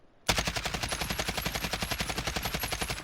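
Sustained fully automatic AKS-74U fire in Call of Duty Modern Warfare, a rapid even stream of loud close shots that starts abruptly and runs for about three seconds.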